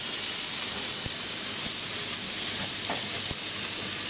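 Salmon stir fry sizzles hard in a hot pan, a loud, steady hissing fry with a few faint clicks of stirring, heard up close with no voices.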